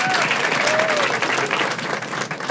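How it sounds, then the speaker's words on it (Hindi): An audience applauds for a contestant on a Hindi show, a dense, loud, steady clapping that fills the whole stretch with a faint crowd murmur behind it. "ताली बजा सब लोग"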